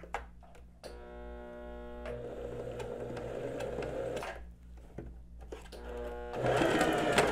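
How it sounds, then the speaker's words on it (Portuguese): A sewing machine stitches fabric in steady motorized runs, stopping briefly between passes as a basic blouse dart is sewn and backstitched, loud and close with short pauses and clicks. "você levanta o calcador com a agulha baixa e volta a costura."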